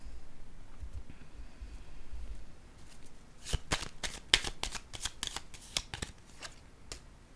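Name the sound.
cards being handled and laid down in a card reading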